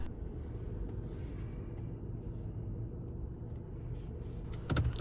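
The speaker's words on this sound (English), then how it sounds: "The engine continues to work and the car is ready to move again." A 2020 Toyota RAV4 engine runs steadily after an emergency start, a low, quiet, even rumble with a brief louder rustle near the end.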